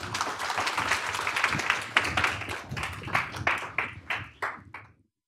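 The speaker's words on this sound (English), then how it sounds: "Let's give them a round of applause." A crowd claps and applauds steadily, dense and loud at first, then thinning into scattered claps before stopping.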